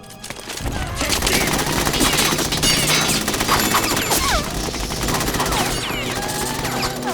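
Machine gun gunfire from the video game Metal Gear Solid 2, loud sustained bursts with crashing impacts and ricochets, voices shouting over the rapid firing.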